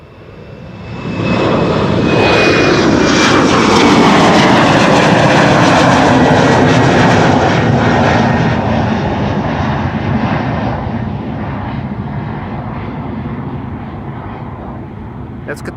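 Qatar Cargo freighter jet departing Amsterdam Schiphol's Polderbaan runway bound for Doha, a powerful roar surging in after a second, holding loud for several seconds with a descending whine, then slowly easing away.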